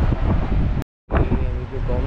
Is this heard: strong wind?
yes